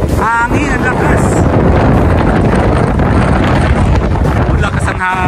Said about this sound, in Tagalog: Ang lakas ang hangin, nakakatakot yung hangin!